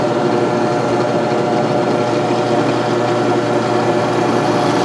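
A steady, loud mechanical drone of a drill boring into metal, with cutting fluid on the bit, runs without a break from start to finish, while fitting a stand for a 3-point landscape rake.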